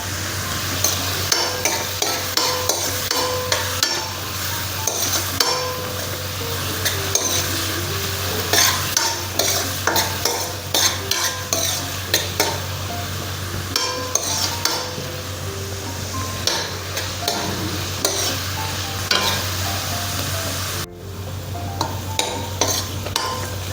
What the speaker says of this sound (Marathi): पियाव मातसो बेगीन भाजून येवपाक आनी बरो सॉफ्ट जावपाक हांव इल्लेशें मीठ उडयतां